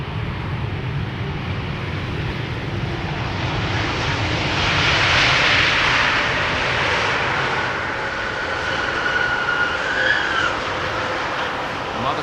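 A jet airliner approaches on the Polderbaan runway at Amsterdam Schiphol Airport, a broad rushing engine roar that swells and then fades with a rising whine, heard outdoors from near the runway amid steady background noise.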